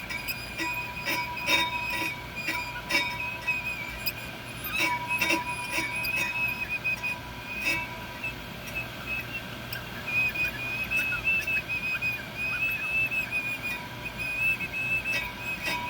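An on-car brake lathe cuts a rusty brake rotor, giving a steady, thin, high whine with scattered light clicks and ticks over a low, continuous mechanical hum.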